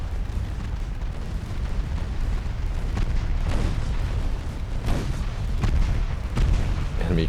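Heavy naval 5.9-inch guns firing in the warship game Ultimate Admiral Dreadnoughts, a handful of deep booming reports rising out of a constant low rumble of sea and battle noise, with no voices.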